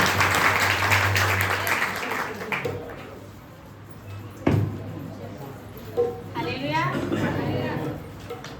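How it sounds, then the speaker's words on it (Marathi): At a Good Friday church gathering, the audience claps to welcome a speaker, with dense applause for about three seconds that fades to scattered claps. Voices and movement follow, and a person speaks toward the end. "आपण सर्वजण टाळ्या वाजवून त्यांचं स्वागत करू"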